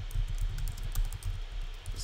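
Clicky typing on a computer keyboard during a programming session on a Game Boy emulator, a quick run of close keystrokes repeating steadily over a low background hum with no talk.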